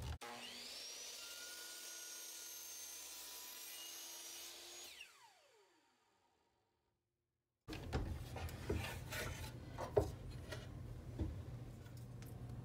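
A miter saw makes a 45-degree cut in wood for a Scrabble box, with a steady high whine for several seconds that spins down to silence, followed by close rustling and handling noises.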